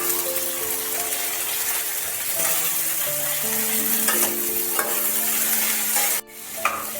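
Potatoes, carrots and beans fry in a pan for a chiré polao (flattened rice pilaf), giving a steady sizzle and hiss with occasional stirring scrapes. A faint background tone sits under it.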